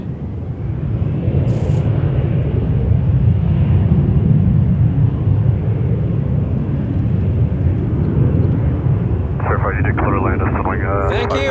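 A Jazz Embraer airliner taking off from runway 23 at Toronto Pearson, a loud continuous low engine roar holding steady throughout, with a short burst of radio chatter near the end.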